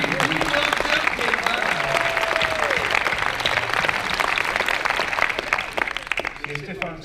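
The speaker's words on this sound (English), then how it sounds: "Does everyone give Bado a round of applause?" A conference audience at the Devoxx Belgium closing keynote applauds a newly crowned world champion, loud sustained clapping from a large crowd with cheering mixed in and a voice talking over it, tapering off near the end.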